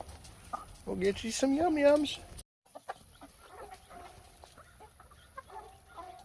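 Chickens cluck and squawk close by, with a person talking over them; after a brief gap, quieter clucking continues with scattered scratching sounds.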